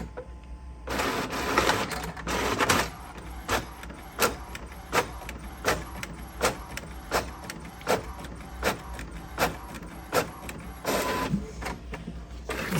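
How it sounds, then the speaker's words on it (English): A sublimation printer works on a notebook cover design, its print head sweeping back and forth in regular mechanical passes with rhythmic clicks and whirs, close and steady with no talking. "And now it is just going to come out of the sublimation printer."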